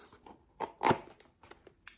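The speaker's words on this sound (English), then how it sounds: "luckily I brought scissors" Scissors cutting open a subscription book box during an unboxing, a few short snipping and rustling sounds with one louder crunch in the middle, close by, no talking.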